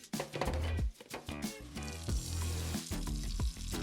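Aquatree garden parts are rinsed under running tap water close up, a loud continuous splashing rush that shifts and gurgles as the items are moved beneath the stream.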